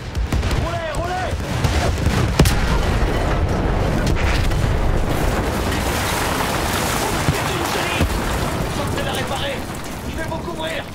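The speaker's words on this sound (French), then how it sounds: "De l'artillerie." Artillery fire in Battlefield 1, continuous heavy rumbling booms and blasts under a dense battle din, with voices speaking over it.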